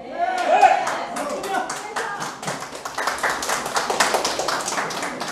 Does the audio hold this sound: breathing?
no